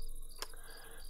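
Crickets chirp at night in the Minecraft video game, a steady high continuous trilling with one brief sharp click partway through.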